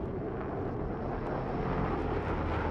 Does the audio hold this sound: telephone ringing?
no